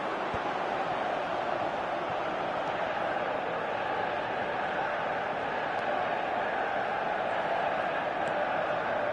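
Stadium crowd in an eFootball 24 match roars steadily, a dense continuous wash of cheering and murmur at moderate level with no distinct voices standing out.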